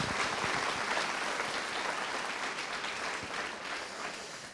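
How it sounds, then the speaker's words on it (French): An audience at a theatre evening breaks into warm applause, a loud, dense patter of clapping that holds steady and then eases off slightly. "On peut l'applaudir."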